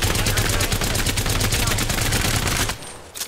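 Rapid automatic gunfire in Apex Legends, a dense sustained burst of shots loud and close for most of the moment, then cutting off abruptly near the end with only faint game sounds remaining.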